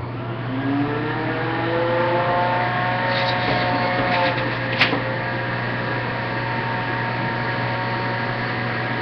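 A juicer motor whirs steadily and evenly for several seconds before any vegetables go in, a loud close drone with a faint tick partway through and no talk.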